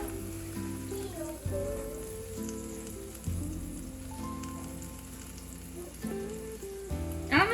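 Burger patties fry in a pan with a continuous spattering hiss, partly masked by steady tonal background music, with a few louder bumps along the way.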